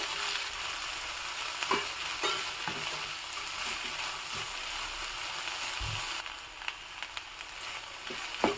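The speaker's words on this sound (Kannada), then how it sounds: "ಇವಾಗ ಇದಕ್ಕೆ ನಾನು ಸಣ್ಣದಾಗಿ ಹೆಚ್ಚಿಟ್ಕೊಂಡಿರೋ ಒಂದು ಕಾಲು ಕೆ ಜಿ ಆಗೋಷ್ಟು ಬೆಂಡೆಕಾಯಿನ ಹಾಕ್ತಾ ಇದ್ದೀನಿ" Finely chopped okra frying in a pan, a continuous hiss of sizzling broken by occasional clicks and scrapes of stirring.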